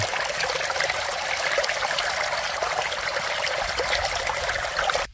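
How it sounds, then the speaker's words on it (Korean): A stream flows in winter at the Korean National Arboretum in Pocheon, a loud, steady rushing and trickling of water running unbroken for several seconds before cutting off abruptly. "겨울 물소리가 너무 좋아서 제가 한번 찍고 있습니다"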